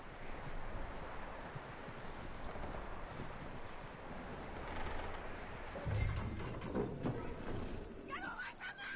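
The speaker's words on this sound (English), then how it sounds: "That looks like a decent horse." Horse hooves clip-clop at a steady walking rhythm in Red Dead Redemption 2, moderately close over a continuous outdoor bed of wind and rustling, with a few louder thuds near the end.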